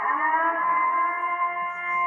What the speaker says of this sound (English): What the hell is a purge siren?